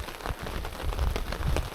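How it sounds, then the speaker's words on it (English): Steady rain falls at a wild camping spot in extreme conditions, a dense close patter of drops on a surface with scattered sharper hits, continuous and moderately loud, with no voices. "Gonna wait for this rain to pass"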